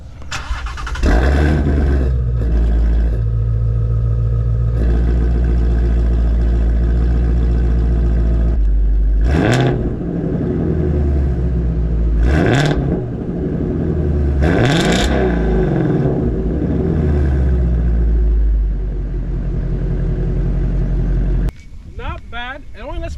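A Ford Mustang Shelby GT350R starts and idles with a deep, loud rumble, then revs sharply to about 4,000 RPM three times, each rise and fall clear and close, before the engine settles back.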